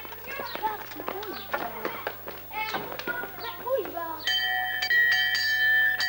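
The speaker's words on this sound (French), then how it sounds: "Tu vas sonner la cloche." A bell rung in a country village rings out near the end with clear, steady tones, after a stretch of lively voices and footsteps.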